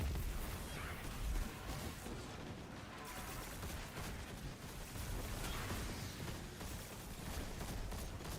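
Grenade blasts and weapon fire in the Destiny 2 Final Shape campaign, a dense, continuous run of loud bursts and crackling pops with one heavier boom early on and no voices over the combat.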